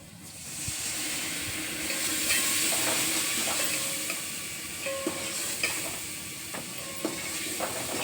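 A tempering of cumin, red chili powder and turmeric sizzles and hisses steadily in a pan, close and continuous, with a few faint clinks and taps over the frying.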